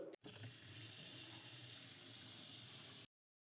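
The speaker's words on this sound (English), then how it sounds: "Grab 1 can of chickpeas, rinse well," A can of chickpeas is rinsed under a running kitchen tap. The water gives a loud, steady, close hiss for about three seconds, then stops abruptly, with no speech.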